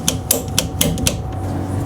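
A plumber saws through a drain pipe, giving a rapid run of rough, rasping strokes up close over steady background noise, with no voices.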